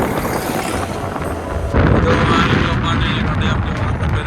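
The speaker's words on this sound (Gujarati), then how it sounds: "પવન એ છે વધારે, એટલે ઠંડી લાગે" Steady, heavy wind rushes and buffets the microphone throughout, with a low roaring rumble that grows stronger partway through.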